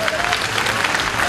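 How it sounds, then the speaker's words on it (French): Audience applause at a Visiteur du Futur conference at the Art to Play event, a dense steady wash of many hands clapping throughout, with crowd murmur and a faint voice underneath. "on peut les applaudir."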